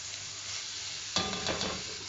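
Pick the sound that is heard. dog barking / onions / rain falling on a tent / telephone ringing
onions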